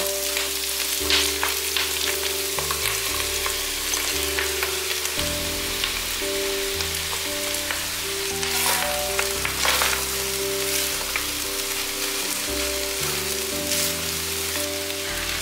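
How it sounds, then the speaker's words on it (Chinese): Dried tofu and soy mince stir-fried in a wok, a loud steady sizzle with a constant low hum beneath and scattered scraping stirs throughout, no talk. "豆干和大豆酥肉末加进来，略炒一下后，可以来调味了"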